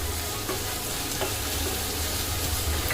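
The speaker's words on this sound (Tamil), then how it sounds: "இஞ்சி, லோ ஃப்ளேமில் வச்சுங்க, அப்போ தான் வதங்கிறதுக்கு நல்லாயிருக்கும்." Ginger sautéing in a pan over a low flame for Tamil rice flour balls, giving a soft, steady sizzle with occasional light stirring scrapes, close and continuous, with no voices.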